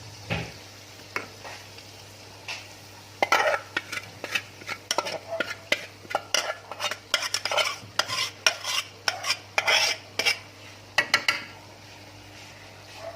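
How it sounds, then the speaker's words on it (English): A spoon stirs sweet jaggery rice in a pot, giving a string of close scraping and knocking strokes in an uneven rhythm over a low steady hum. There is no talk. "And now I'm just going to give it a quick stir and let it simmer."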